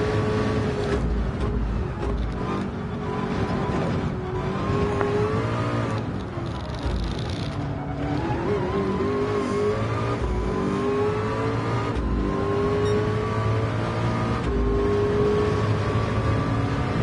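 Race car engines drone and rev steadily in a Le Mans endurance race game played in PSVR2, with a Mazda, Renault and McLaren on track, a continuous loud whine rising and falling through gear changes with no talk.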